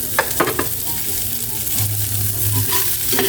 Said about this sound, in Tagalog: nagigisa na ako ng bawang sibuyas